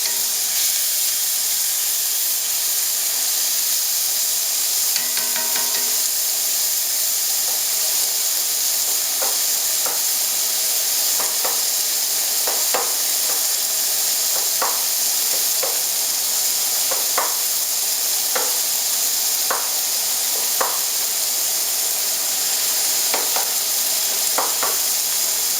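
Tomato and egg cook in a frying pan for a traditional Chinese dish, a constant loud hissing sizzle with steam, punctuated by a series of light spatula scrapes and taps.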